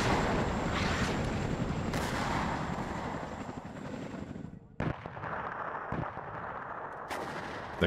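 Counter-battery artillery fire in the video game WARNO, a dense continuous rumble of distant and near barrages with several sharp booms breaking through toward the end.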